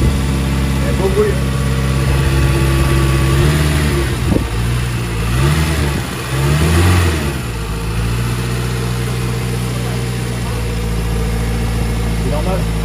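A rebuilt car engine runs near and loud at a steady idle, swelling through a couple of revs midway before settling back to an even hum, with voices talking over it.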